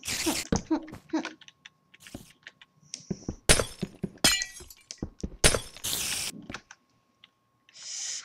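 A glass pane shatters in a video game, with sharp breaking crashes and tinkling shards arriving in several separate bursts between quiet gaps.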